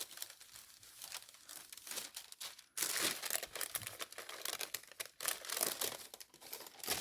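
Parchment paper is handled while ironing felt letters, giving close crinkling and rustling in uneven bursts that grow louder after a brief lull, with no talking.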